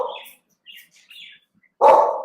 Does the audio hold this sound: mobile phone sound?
no